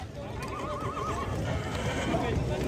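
Horses at a gathering neigh in loud, wavering whinnies close by, with hooves clip-clopping and people talking underneath.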